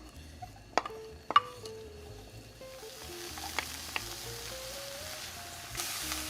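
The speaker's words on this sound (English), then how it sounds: "we're just gonna saute our onions and our garlic" Onions and garlic sauté in a little oil in a pan over medium heat, giving a soft, steady sizzle with a few sharp clinks of utensil on pan near the start.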